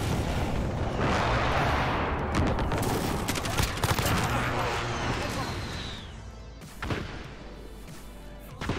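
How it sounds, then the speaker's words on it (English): Precision airstrike in Call of Duty: Modern Warfare, a loud, dense barrage of overlapping blasts and crashing impacts that rolls on for several seconds before tapering off, with voices underneath. "Enemy precision airstrike inbound."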